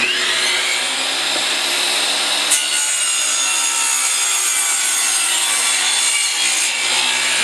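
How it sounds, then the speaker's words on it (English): A 13 amp table saw whines loudly and steadily as it cuts through wood, a continuous grinding drone that barely changes. "But will it run a 13 amp table saw?"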